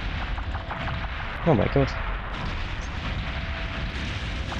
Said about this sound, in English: Quite a lot of explosions there.